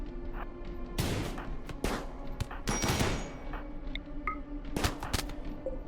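A chain shotgun fires in the video game RimWorld, letting off several loud, rapid bursts of blasts separated by short gaps, with fainter scattered shots in between.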